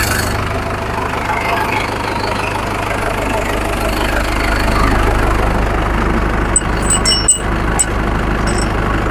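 A Swaraj 843 XM tractor engine idles steadily with a deep, continuous rumble up close, throttle held level, and a few brief knocks and clicks near the end.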